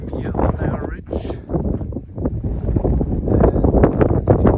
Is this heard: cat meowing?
no